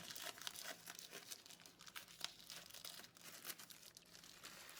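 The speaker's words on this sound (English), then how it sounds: "So I'm going to open the plastic. It's sealed so tightly" Close crinkling and crackling of tightly sealed plastic wrapping being pulled open from a new Varmilo Minilo 75 mechanical keyboard, with sharp tearing bursts scattered over a few seconds.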